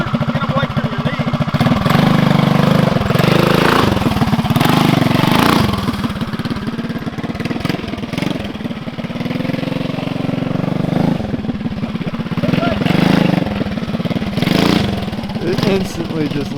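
A 1970 Bird mini bike engine runs loud and close, its small motor revving and surging in rough bursts with uneven throttle swells across the whole stretch.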